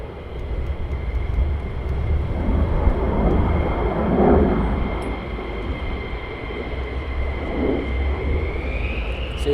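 A fighter jet departs RAF Lakenheath, its loud, steady engine roar spread broadly across the range and swelling slightly around the middle, heard continuously for the whole stretch with no voices.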